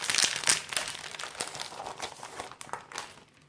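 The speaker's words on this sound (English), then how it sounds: "I'm going to go ahead and open up my sticker sheet." Plastic crinkling and crackling as a Dollar Tree sticker sheet is opened up close, with bursts of rustling that taper off, no talking.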